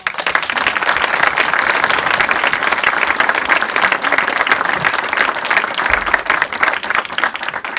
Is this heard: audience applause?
yes